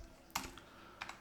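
A single Enter key pressed on a computer keyboard while entering figures into a spreadsheet: two quick, close, faint clicks a moment apart in a quiet room.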